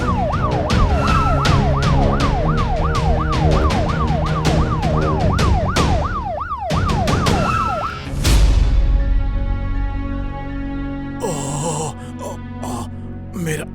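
A loud ambulance siren wails in rapid rising-and-falling sweeps at an accident scene, then cuts to a steady tone as traffic rumbles; people speak over it briefly.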